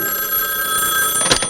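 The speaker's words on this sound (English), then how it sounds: "And then I woke up because the phone was ringing." A telephone bell ringing steadily in a radio drama scene, a bright sustained electric ring with a sharper burst near the end, alone and fairly loud.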